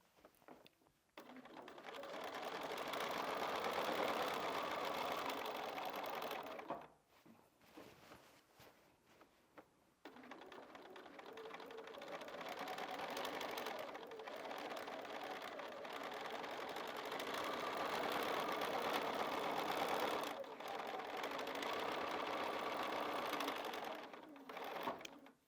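A domestic sewing machine doing free motion quilting on a quilt runs in long, steady, loud bursts of rapid stitching, pausing briefly around seven seconds before whirring on continuously.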